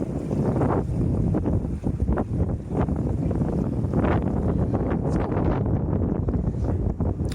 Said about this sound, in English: Sorry about the wind as well.